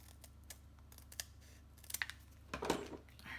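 Scissors snipping through paper during card making, a few quiet crisp cuts spaced out with a louder rustle near the end, close and faint.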